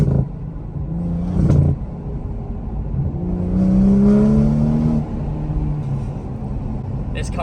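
A BMW M240i accelerates hard in sport mode, its engine note rising and swelling in a strong pull midway, heard from inside the cabin with steady road rumble underneath.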